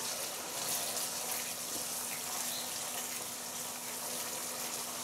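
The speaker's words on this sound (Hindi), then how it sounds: "अब हम इसमें गलाने का पानी डालेंगे।" Water being poured into a pot of browned mutton and carrots while cooking gajar gosht, a steady close gushing pour running the whole time with no talk.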